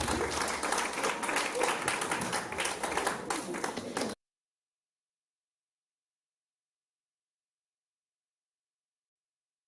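An audience at a parents' summit in Port Harcourt applauds, steady dense clapping from many hands for about four seconds that then stops abruptly into silence.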